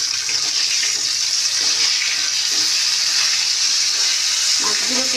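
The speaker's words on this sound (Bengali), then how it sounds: "মাছগুলো তো ভাজা হয়ে যাচ্ছে" Fish fry in hot oil in a home kitchen, giving a continuous, fairly loud sizzling hiss that stays even throughout, with faint background sounds and little or no talk.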